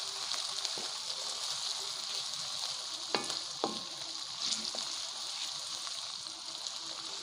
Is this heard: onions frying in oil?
yes